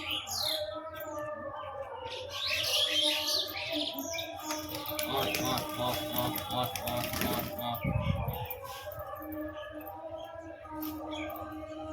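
Pigeons being fed grain give scattered chirps and soft calls, with some mechanical clattering and rustling in the middle, while a voice talks over them.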